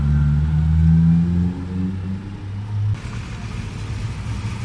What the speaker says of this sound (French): Arrive ensuite un bijou, une 2002 Turbo, peut-être une de mes voitures préférées.